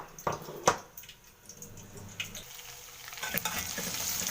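Vermicelli being stirred as it fries in ghee in a pot, giving a soft sizzle with scraping stirs and a couple of sharp clinks up close, the frying growing louder toward the end.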